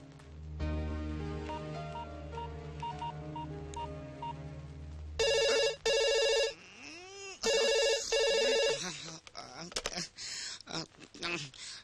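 Outgoing phone call: a steady dial tone gives way to repeated electronic ringback bursts, loud and near, with a few swooping tones and clicks between them.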